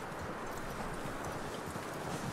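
Steady clip-clop of horse hooves in Red Dead Redemption 2, a continuous rhythmic trotting beat that stays fairly close and even in loudness throughout.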